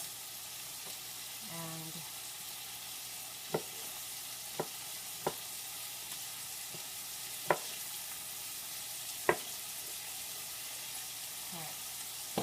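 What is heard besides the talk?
vegetables cooking in a stir fry pan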